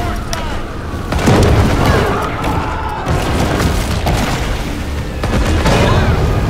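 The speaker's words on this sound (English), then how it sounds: "Oh, that was definitely an explosion." Dynamite thrown into the water goes off in the game Maneater, deep rumbling booms rolling loudly over a continuous wash of water and game noise.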